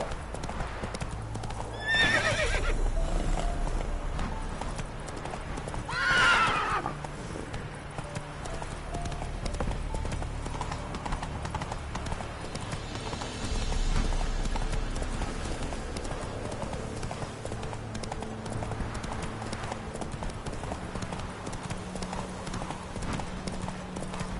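Hooves of a horse in The Witcher 3 game clip-clop steadily at a gallop, with a couple of loud whinnies early on and in-game music and ambience underneath.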